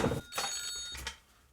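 A telephone rings from inside a drawer as short, muffled electronic trills, two bursts fairly close and moderately quiet, with faint room noise between.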